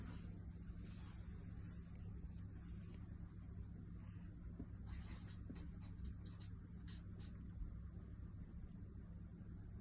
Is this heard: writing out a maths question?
yes